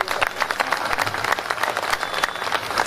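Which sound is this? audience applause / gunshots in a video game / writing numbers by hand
audience applause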